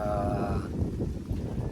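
Wind at a beach campsite buffets the microphone with low, rumbling gusts, a steady roar with a faint tonal hum fading out early.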